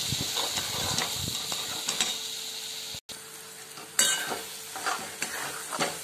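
Egg bhurji sizzles in a pan while a spatula stirs and scrapes through it. The frying noise runs continuously near the mic, broken by a brief silent cut midway, with no voices.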